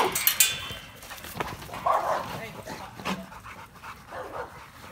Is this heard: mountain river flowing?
no